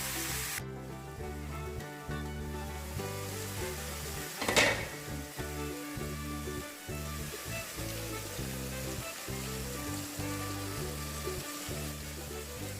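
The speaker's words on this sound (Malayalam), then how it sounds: "ഒരു പാനിലേക്ക് കുറച്ച് വെളിച്ചെണ്ണ ഒഴിച്ചു കൊടുത്തു. എന്നിട്ട് ഈ ചിക്കൻ കഷ്ണങ്ങളൊക്കെ അതിലേക്ക് നിർത്തി വെച്ച് അടച്ച് വേവിക്കുകയാണ് ചെയ്യുന്നത്." Masala chicken pieces fry in coconut oil in a covered pan, giving a steady close sizzle with a brief louder burst midway and faint utensil clinks, no talking.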